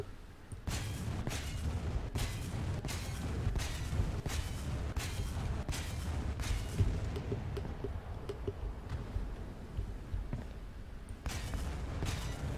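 Naval guns in the War Thunder video game fire at a destroyer in a steady sequence of low booming shots about once a second, with rumble carrying between them.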